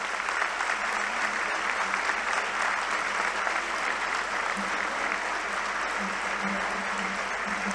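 A crowd breaks into sustained applause to welcome a governor at a public gathering, loud dense clapping that continues throughout with some voices underneath.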